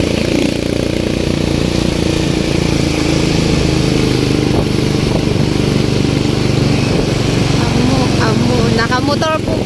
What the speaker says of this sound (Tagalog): Nakamotor po pala, nakamotor.